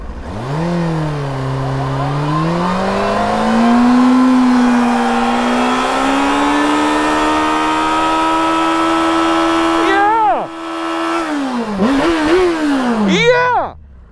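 A motorcycle engine revs hard and holds high during a tire burnout, pitch climbing then sustained, before it cuts out abruptly and sputters back with short blips; a voice is faintly present.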